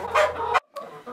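Backyard chickens vocalising near the camera over food scraps, with loud clucking and rooster-like calls in two short bursts separated by a brief silence.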